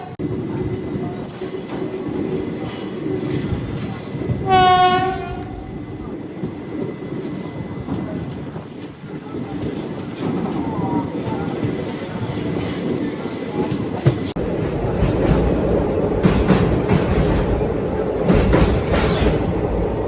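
The Tirupati–Puri Express rolls away from Nellore with a continuous, close rumble of wheels and carriages, thin metallic squeals, and a brief tonal whistle-like call early on.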